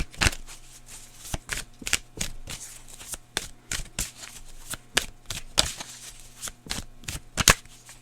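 Tarot cards shuffled by hand in a run of crisp riffling bursts at a steady, unhurried pace, close up and alone with no talking.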